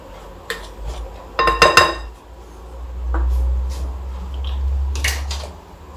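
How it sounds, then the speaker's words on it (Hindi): A spoon clinks and scrapes against a pan while milk-powder rasmalai batter is stirred, the metallic knocks clustered into a brisk burst early on and then coming sparsely over a low, dull background. "अच्छे तरीके से इसको मिक्स कर लें"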